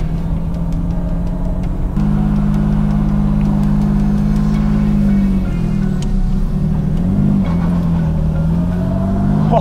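A Jaguar Mk2 with a rebuilt engine pulls away up a driveway, its engine droning loud and close with a rising note partway through as the wheels spin.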